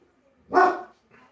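A dog in a household gives one loud, close bark, followed by a fainter, shorter bark after a brief pause.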